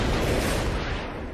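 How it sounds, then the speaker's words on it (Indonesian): A car blows up in the action film The Transporter, a dense, sustained roaring blast of broadband noise that holds steady and loud before trailing off slightly at the end. "Tiba-tiba, mobilnya meledak."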